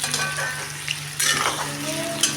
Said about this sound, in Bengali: এখন কাঁঠালগুলো দিয়ে দিয়েছি ভাজা